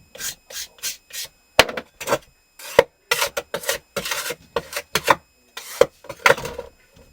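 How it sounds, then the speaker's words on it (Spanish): Rhythmic rasping strokes as a plaster horse mould is smoothed and polished by hand, a rapid series of short, close scraping bursts separated by brief pauses, loud and dry with no speech. "hay que pulir esta parte completa"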